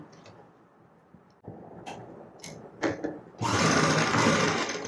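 A sewing machine stitches blouse fabric, starting with soft separate ticks and short bursts, then running into a steady, loud whirring stitch over the last second and a half.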